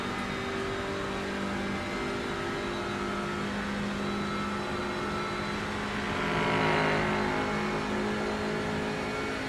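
Race car from a racing video game roaring past at speed, a constant loud engine drone that swells briefly as the faster car draws level and then carries on, with no talk over it.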